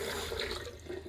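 Cold tap water running steadily from a kitchen faucet for a moment, a continuous close splashing rush with no voices.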